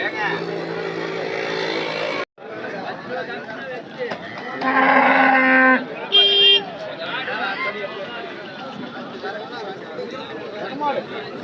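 Cattle at the Anthiyur cattle market let out long, loud moos, one early and another midway, amid busy crowd chatter and background vehicle noise.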